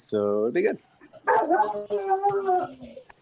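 A pet dog barks a few sharp yips in the background while people chat over it, the barks brief and interleaved with close conversation.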